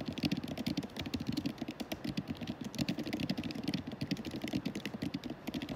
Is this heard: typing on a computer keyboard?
yes